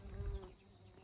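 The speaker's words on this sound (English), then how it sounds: "You can see the bees" Bees buzz faintly for a moment around garden herbs such as thyme, mint and sage in a Scottish vegetable garden.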